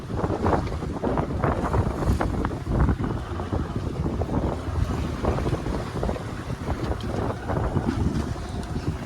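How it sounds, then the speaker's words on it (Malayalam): A wooden fishing boat out at sea runs under sail and engine, giving a steady low rumble mixed with rushing wind buffeting the microphone and the wash of waves, with no voices. "അങ്ങനെ നമ്മളെ പായൽ വള്ളം ഓടാൻ തുടങ്ങിയിട്ടുണ്ട്. എഞ്ചിനിൽ ഓടുന്നുണ്ട്."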